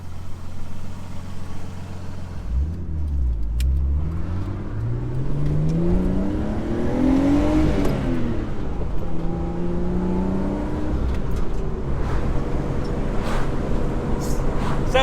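A Nissan Skyline R32 with its HICAS removed drives on an open street, engine note rising and falling through gear changes as it accelerates, steady road and cabin rumble underneath, heard from inside.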